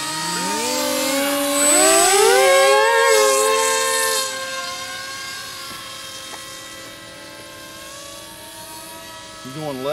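A small engine on a Bird of Prey model airplane buzzes overhead at an airfield, its pitch swooping up and down as it passes, then settling into a steadier, fainter drone.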